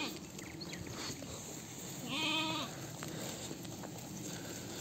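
Sheep and young lambs, about one to one and a half months old, bleat along a roadside on the way to a field, with one clear bleat standing out over a steady outdoor background.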